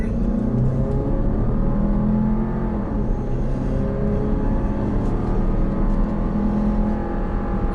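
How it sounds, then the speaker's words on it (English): A Jeep Grand Cherokee 4xe SUV engine accelerates hard to highway speed, a steady low roar with rising tones and road noise, loud and continuous with no talking. "I'm going to accelerate up the highway speed here and foot to the floor"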